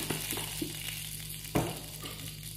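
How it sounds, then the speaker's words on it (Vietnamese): Oil heating in a hot frying pan with a little salt added, sizzling steadily and close up before fish is fried, with a sharp crackle burst partway through and no talking. "Bây giờ chúng ta sẽ đi chiên cá."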